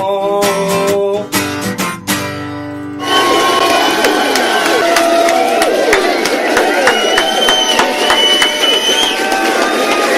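A large crowd gathered outside cheers and shouts in a continuous roar of many voices, loud and sustained, after an opening stretch of music-like tones.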